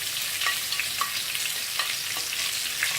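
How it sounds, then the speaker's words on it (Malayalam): Round-sliced onions sautéing in a pan for Kerala-style nadan chicken curry, a steady close sizzle broken by scattered light crackles and pops, with no voices. "അപ്പോൾ 6 സവാള, അതായത് ഒരു കോഴിക്ക് 3 സവാള വെച്ചിട്ട് വട്ടത്തിലരിഞ്ഞത് നമുക്ക് ഇതിനകത്തിട്ടൊന്ന് വഴറ്റിയെടുക്കാം."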